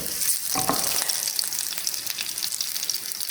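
A green chilli fries in smoking-hot oil, giving a dense, steady sizzle and crackle with a sharper burst of spitting near the start, close and unbroken throughout.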